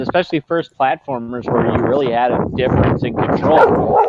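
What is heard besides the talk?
dog barking at dogs in an upstairs window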